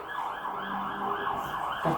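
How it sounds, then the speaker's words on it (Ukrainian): An ambulance or police siren passing by on a street wails in a steady rising and falling pattern at moderate distance over a constant traffic hum, with no voices. "швидка міліція десь поїхала"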